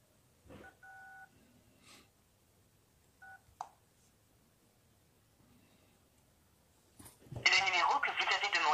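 A Blackview A10 smartphone sounds a short series of paired dialing tones near the start, then goes quiet before loud, dense garbled signal noise bursts in at the end.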